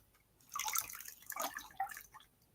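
Lye water for cold process soap pours in a short, close, trickling run of drips and splashes, rising after a quiet start and wavering over a couple of seconds before tapering.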